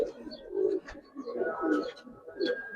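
Giribaz and coloured pigeons at a pigeon farm coo in several soft, low, throaty bursts close by, overlapping with faint higher chirps.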